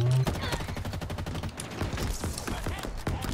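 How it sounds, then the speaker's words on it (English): Rapid gunfire in Halo Infinite, dense bursts of automatic shots crackling continuously and fairly loud throughout, with no clear speech. "Who's shooting at me?"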